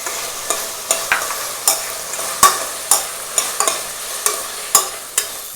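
Onion and tomato cook in a pan over low heat, a steady soft sizzle broken by regular scraping strokes of a spoon stirring roughly every half second, close and alone with no voices.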